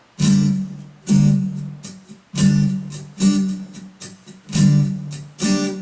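An acoustic guitar is strummed in a repeating rhythmic pattern, sharp chord strokes ringing out with brief pauses between them, close and clear.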